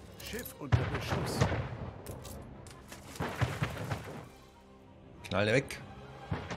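A ship takes cannon fire in the strategy game Anno 1800: dull booming volleys and rumbling blasts come in bursts, mixed under a person talking.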